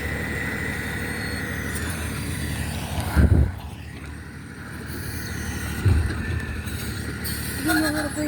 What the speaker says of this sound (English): as I wait for the garbage truck to pass